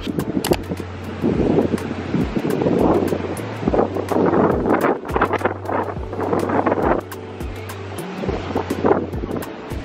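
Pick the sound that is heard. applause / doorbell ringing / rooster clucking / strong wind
strong wind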